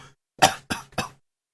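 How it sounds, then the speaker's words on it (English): Four sharp, dry coughs close to a microphone, spaced irregularly across a short quiet stretch. "I was coughing out of the microphone, so sorry if I spread the corona through the audio"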